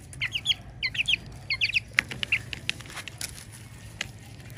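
O shamo aseel chicks cluck and peep in short chirpy bursts, several quick clusters early on and then scattered single calls, fairly faint, over a low steady background hum.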